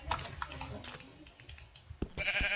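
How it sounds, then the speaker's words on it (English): Rapid keyboard typing and mouse clicks dominate, then a short Minecraft sheep bleat rises near the end, close and fairly loud. "Hello, sheep."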